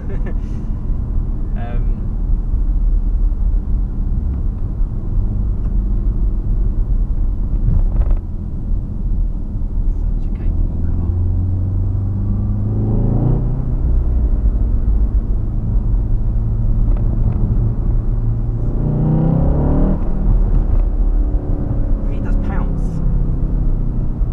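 Inside a VW Golf R with a manual gearbox on the move: a loud, steady low engine and road drone with rising and falling tones as it accelerates and shifts, and a voice speaking over it at times.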